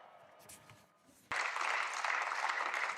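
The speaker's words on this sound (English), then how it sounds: "Speaking to applause in the European Parliament" Applause breaks out in the European Parliament chamber, starting abruptly after a quieter stretch of faint voices and filling the rest of the moment as a steady, dense wash of clapping.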